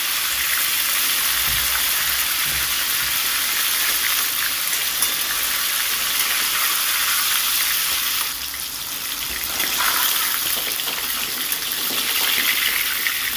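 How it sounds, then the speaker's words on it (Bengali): Catla fish pieces frying in oil, a dense, loud, continuous broadband sizzle and crackle that dips briefly partway through and then resumes, with no voices. "মাছগুলো ভাজা হয়ে গেছে, এবার আমি ছাকনা দিয়ে ছেঁকে তুলে নেব"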